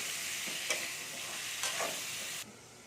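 Long-cut potatoes frying in a pan with salt and turmeric give a steady close sizzle with a couple of brief stirring bursts, then the sound drops off sharply near the end.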